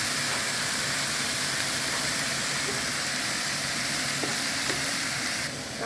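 Vegetables stir-frying with soy sauce in a Chinese vegetarian stir fry over a medium flame, a loud, steady, dense sizzle that runs without a break.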